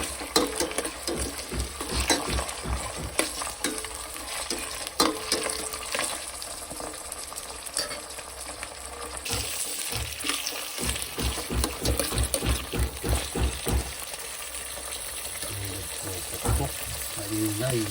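Chicken liver going into a pot of sopas soup and being stirred, giving a steady close sizzle and bubbling with scraping stir strokes throughout.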